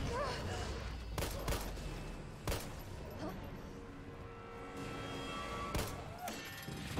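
Gunfire in the survival horror game Resident Evil 3 Remake: several sharp, loud shots ring out at irregular intervals over a dense game soundscape, with a few crashing hits mixed in.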